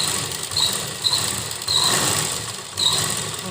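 A sewing machine stitches pleats into a lined trouser, its motor giving a steady close whirring hum with faint squeaky high notes and small surges in speed, with no voices.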